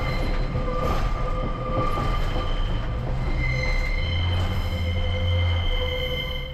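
A Northern Class 142 Pacer diesel train rumbles steadily from inside the carriage over the Marple Viaduct, with low engine drone, faint wheel squeal tones and a continuous loud rolling noise.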